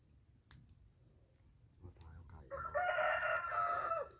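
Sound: chicken clucking and crowing

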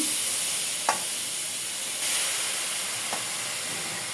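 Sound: chopped kalai greens sizzling in a hot wok

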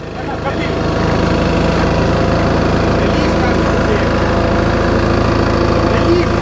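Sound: truck engine running

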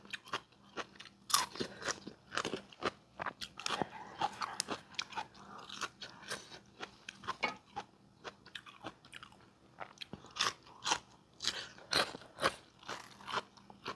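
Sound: eating rice with chili paste and boiled vegetables

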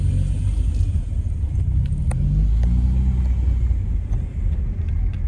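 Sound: Alfa Romeo 1.6 engine rumbling

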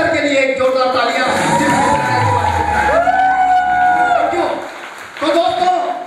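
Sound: applause and cheering

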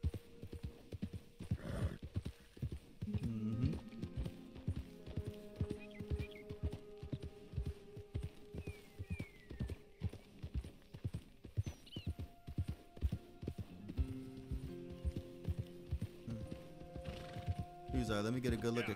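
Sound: horse hooves in video game

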